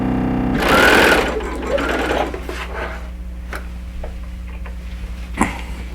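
Sewing machine stitching a quarter-inch seam on a quilt block, a loud rapid whirring burst at the start, then quieter scattered ticks and clicks of the machine.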